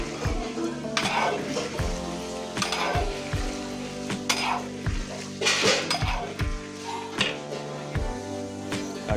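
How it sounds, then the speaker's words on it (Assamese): Lalmohan sweets fry in a pan, hissing and sizzling steadily while being stirred, with repeated scraping and clinking of the utensil against the pan, close and loud. "লালমোহন ফ্ৰাই কৰি আছোঁ"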